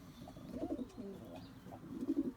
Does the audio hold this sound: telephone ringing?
no